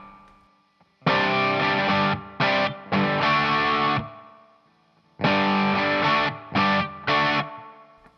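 Distorted electric guitar plays a rhythm figure twice: sharp chopped chord stabs in a stop-start pattern with short silences between phrases, loud and close, with no voice.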